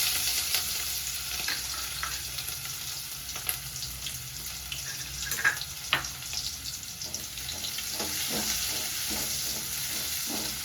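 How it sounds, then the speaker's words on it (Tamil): Small shallots hitting hot oil already crackling with fenugreek seeds, a steady close sizzle with scattered pops and stirring clinks, no voices throughout. "வெந்தயம் நல்லா பொரிஞ்சிருச்சு. சின்ன வெங்காயத்தை சேர்த்துக்கலாம்."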